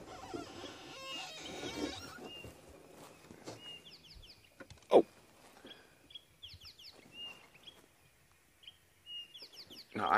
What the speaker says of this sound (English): Now I can hear some nice bird calls around that dead tree.